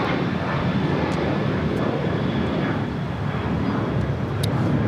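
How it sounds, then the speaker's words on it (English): A United Airlines Boeing 737-800 takes off at LAX with a loud, dense jet roar that stays strong and steady for the few seconds, with brief high crackles on top and no voices. "United Airlines 1727 taking off to Denver, Colorado on a 737-800"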